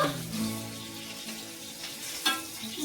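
Chicken legs frying in a pan give a steady, close sizzle that crackles on throughout, with a brief clatter near the end as the pieces are stirred or turned.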